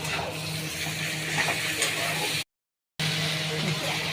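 Tomato, green chilli, turmeric and salt are stirred in a sizzling pan, a close, steady frying hiss with scraping strokes, broken by a short silent gap.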